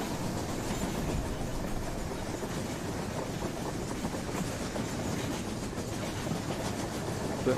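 Simulated train carriages in the VR game Rolling Line rumble steadily along with a rapid clickety-clack, loud and continuous throughout with no talking.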